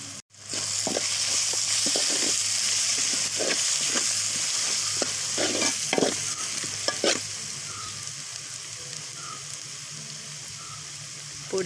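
Chili, coriander and turmeric powders fry in hot oil for a Kerala-style crab roast, giving a strong continuous sizzle broken by repeated scraping strokes of a spoon stirring the pan, with no talk.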